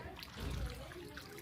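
Water trickles from a hose pipe at home, a faint, steady low wash with one brief fuller swell midway before settling back to a soft flow.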